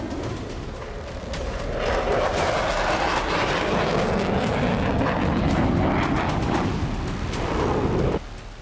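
F-16 and F-35 Lightning II fighter jets fly with a loud, continuous roaring engine rush that swells and holds for several seconds before cutting off abruptly near the end.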